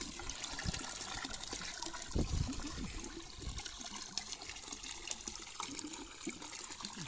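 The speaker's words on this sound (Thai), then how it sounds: "ปั๊มน้ำโซลาเซลล์ครับ" Steady water flowing from a solar-powered water pump, a continuous close splashing gush with low gurgles and a brief heavier surge partway through, running throughout without speech.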